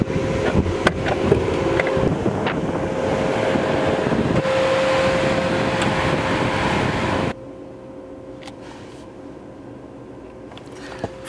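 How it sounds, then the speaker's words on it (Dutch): Steady engine hum from an Ineos Grenadier Quartermaster 4x4 running after overheating, a constant close drone with a faint tone that drops abruptly to a much quieter idle-like background partway through. "Joy, hoor de motor."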